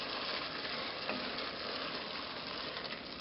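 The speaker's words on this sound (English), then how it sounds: "We're going to let this simmer for a couple of minutes," A vegetable curry with added water simmers in a pan, giving a broad, even bubbling hiss that holds steady and moderately loud throughout, with nothing else heard.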